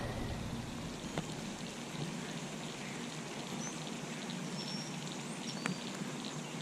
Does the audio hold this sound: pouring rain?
yes